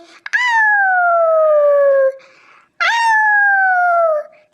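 Two long, loud howls from a fox in a camel-and-fox folk tale, each a drawn-out falling wail lasting about two seconds, separated by a short pause, with no talking over them.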